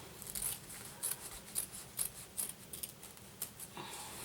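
Scissors snip through foam stabilizer in a series of about seven crisp, close cuts spaced roughly half a second apart, each a short bright rasp with quiet pauses between.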